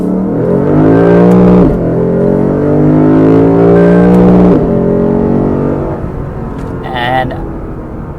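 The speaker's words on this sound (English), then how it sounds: "And you'll hear this engine roar." A 2017 Lexus RC F engine at full throttle, loud rising roar climbing through revs with two sharp shift breaks, then easing off as wind and road noise take over, someone talking over it.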